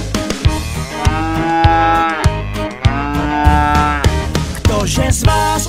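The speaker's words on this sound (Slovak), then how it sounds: "Krava robí mu mu." Cows moo over and over in a Slovak children's song, long loud lowing calls set against bright sung music and accompaniment, with no talking.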